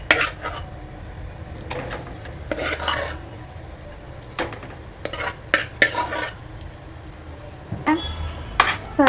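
Onion, tomato and capsicum being stirred and fried in a pan for pav bhaji, with irregular scraping strokes of a spoon against the pan over a low, steady sizzle.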